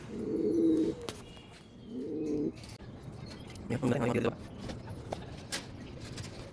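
Racing pigeons coo in a loft, several low, soft throaty coos in short bursts close by, with scattered light clatter and movement around them.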